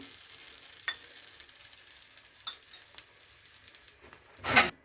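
A ragi flatbread cooks on a pan with a faint, low sizzle, broken by a few soft scraping clicks and one louder, brief burst of crackling near the end.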